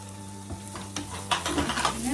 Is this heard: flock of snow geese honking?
no